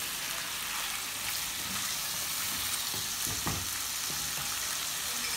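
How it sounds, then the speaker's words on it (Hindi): Mutton fries in hot ghee and oil, a continuous dense sizzle close by with a few stirring knocks and scrapes around the middle. "अभी इसके अंदर मैं ऑयल के अंदर ही मैं इसको भून लूँगी थोड़ा।"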